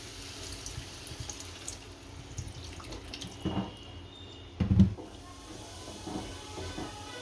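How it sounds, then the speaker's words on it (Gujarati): Water runs briefly from a tap into a cooking pot of mixed gathiya curry ingredients, a short splashing pour with a louder burst near the end, against a quiet room hum. "હવે આમાં પાણી નાખશું"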